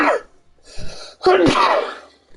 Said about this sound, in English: I had to sneeze at the end of the broadcast